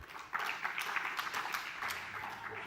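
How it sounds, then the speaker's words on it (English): A conference audience applauding a climate finance forum speaker, steady clapping from a crowd that swells in quickly and holds at an even level throughout. "please give Jessica a round of applause"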